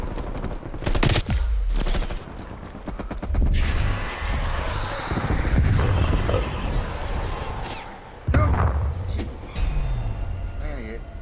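Sustained machine-gun fire in Call of Duty: Black Ops Cold War during a match against infected, with loud rapid bursts, heavy impacts and mechanical clatter, while players talk over the gunfire.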